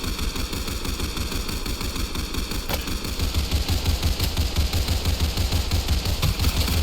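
Rapid automatic gunfire from a militant tower in the Roblox game Tower Defense Simulator, a dense, steady stream of shots that grows louder partway through, with no talking.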